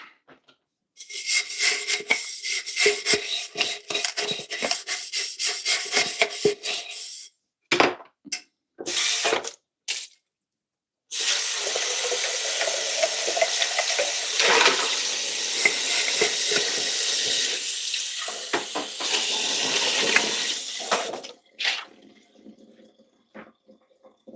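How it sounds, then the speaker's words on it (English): Running water splashes and sloshes while a flask is rinsed, in loud rushing stretches broken by brief pauses and a few clinks, fading to quiet at the end. "Let me wash her a flask."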